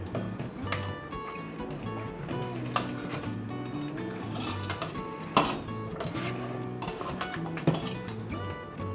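Cheddar and mozzarella being stirred into homemade mac and cheese in a pot, with a steady run of spoon-on-pot scraping and occasional sharper clinks, close and moderately loud, with music-like tonal background throughout.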